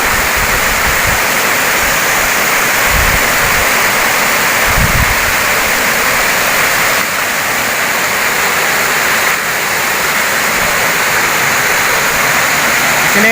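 Curug Dengdeng waterfall in Malingping, South Banten, roars steadily and loudly up close, a dense unbroken rush of water with a few low thumps underneath.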